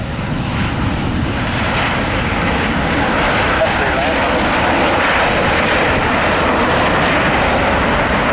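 A Southwest airliner lands at Columbus airport, its loud jet engine roar holding steady and close for the whole stretch, with radio voices talking faintly beneath.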